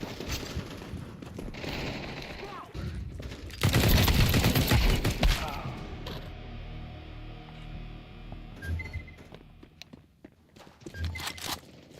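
Gunfire in a shooter video game: a loud, dense burst of rapid shots in the middle, with scattered clicks and thuds before and after.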